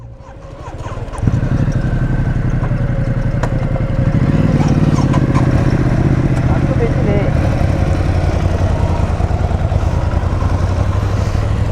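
A motorcycle engine idles steadily and close by in the mountains of Sikkim, a constant low rumble that grows louder after a second and holds through the whole stretch before setting off.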